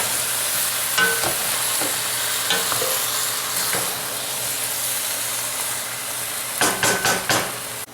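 Beef stew meat goes back into a hot pot, sizzling and frying loudly throughout, with scattered scraping and knocking of a utensil and a burst of quick clatters toward the end.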